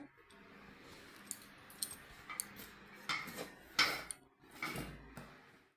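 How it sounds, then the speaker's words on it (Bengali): Bottle gourd being sliced on a boti blade, a series of short, crisp cutting clicks and taps at an uneven pace, close up and fairly quiet, with no talking. "আমি এখানে বটি দিয়ে কাটছি"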